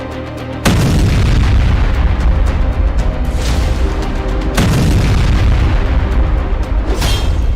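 A bunker buster bomb explosion booms loudly, a heavy blast followed by sustained rumbling, with further sharp impacts landing a few seconds apart.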